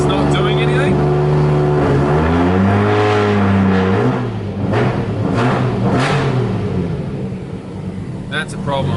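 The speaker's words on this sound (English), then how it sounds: "See, I'm revving that and it's not doing anything." A rebuilt car engine revs at start-up while the throttle position sensor is not registering, pitch climbing and falling through several loud close revs, with someone talking over the engine.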